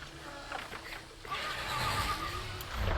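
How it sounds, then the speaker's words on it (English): Horses neigh and whinny in the Horizon Zero Dawn Remastered video game, with a clip-clop of hooves mixed in. The neighs are moderately loud and rise toward the end over a steady ambient game background. "Was that horses?"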